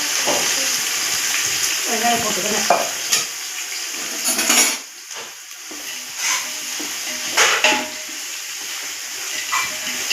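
Whole spices such as cardamom fry in a large quantity of oil for a two-kilo chicken biryani, crackling and sizzling under repeated scraping and clanking stirs of a utensil against the pot, with brief voices in the background.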